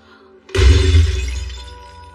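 A prop thousand-year-old egg breaks in an action film scene, giving one loud, sudden crack and shatter followed by a short ringing decay, with no talk over it.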